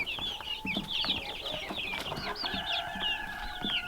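A crowd of Rhode Island Red and Buff Orpington chicks in a brooder peep and cluck constantly, many high chirps overlapping close by without pause, with no talk over them.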